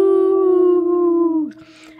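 A person imitates a wolf howl with a single sustained, steady tonal wail that fades out after about a second and a half, loud and close.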